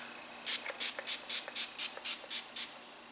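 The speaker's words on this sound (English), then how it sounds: "let's spray it on" A makeup setting spray pumps out about nine quick fine-mist spritzes in a steady rhythm, close and crisp, over a quiet room.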